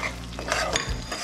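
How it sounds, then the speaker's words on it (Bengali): Spice masala with turmeric, salt, sugar, cashews and raisins being stirred and fried in a pan: short close scrapes and clinks over a low sizzle, no voices. "এবার মশলাটাকে 5 মিনিট কষিয়ে নেব।"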